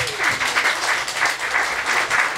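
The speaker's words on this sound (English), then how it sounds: "Give him a round of applause for actually getting me into shape." An audience applauds steadily and fairly close for a personal trainer at a partner evening presentation, a dense wash of many hands clapping with no voices on top.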